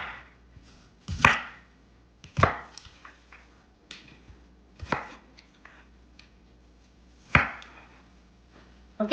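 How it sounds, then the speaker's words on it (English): Small, strong onions being chopped with a knife on a cutting board, sharp loud thuds in an irregular run of single strikes with quiet pauses between, close up and no talking. "go ahead and chop our onions"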